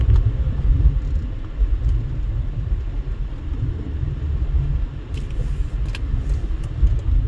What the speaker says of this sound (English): there's a big truck behind me